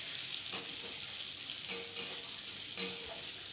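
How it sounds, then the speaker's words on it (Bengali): Chopped onions frying with flattened rice in a pan, with a steady soft sizzle and a few distinct scrapes of a spoon stirring at intervals, close and fairly quiet. "পেঁয়াজ কুচোগুলো দেওয়ার পরেও ভালো করে নাড়াচাড়া করে নেব"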